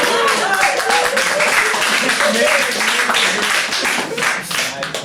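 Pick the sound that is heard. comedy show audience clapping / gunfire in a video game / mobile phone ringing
comedy show audience clapping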